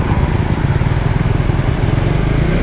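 A Raider 150 Fi motorcycle engine runs loud and close, sputtering and popping unevenly at around 2,000 to 2,500 RPM with a rough, choppy low rumble.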